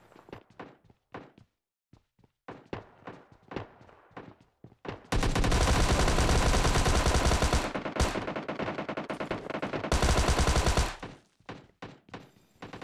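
Thompson submachine gun (Tommy gun) fired at close range in PUBG Mobile Lite: two loud, sustained bursts of rapid automatic fire, separated by a brief gap, with scattered sharp thuds and clicks before and after.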